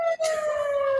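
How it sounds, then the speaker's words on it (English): A fire alarm going off indoors gives a loud, steady electronic tone that holds a single pitch throughout, with a brief dip near the start. "the fire alarm's going off"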